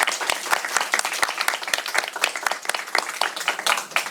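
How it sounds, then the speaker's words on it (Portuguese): Audience applause for the speakers at the close of a panel on international cybercrime regulation and the new UN convention, steady dense clapping filling the whole few seconds, fairly loud and close. "Acho que a gente pode fazer uma salva de palmas para eles."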